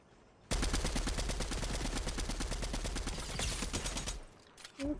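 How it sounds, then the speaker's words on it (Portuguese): Rapid automatic gunfire in Fortnite rattles in a dense, continuous burst for several seconds, loud and close, then stops abruptly. "Um tiro."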